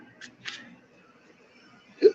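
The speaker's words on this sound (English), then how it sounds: "I got the hiccups." A single sharp hiccup from a person with hiccups, close and fairly loud, following a couple of faint breathy sounds in an otherwise quiet room.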